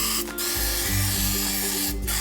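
Pump oil sprayed over dumplings sitting in a pie maker, a loud broadband hiss broken by two short pauses between bursts, close and alone.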